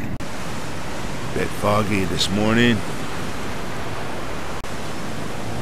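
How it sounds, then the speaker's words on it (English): Steady ocean surf rolls in close by at a beach campsite on a foggy morning, a constant broad wash with a voice speaking briefly over it. "Can you hear the ocean? It's just like right there."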